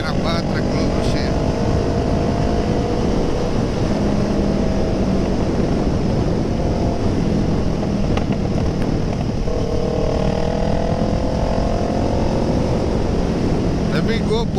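A Kawasaki ER6N motorcycle accelerates along a straight road, its engine drone rising and falling under constant loud wind rush, with a rider talking over it.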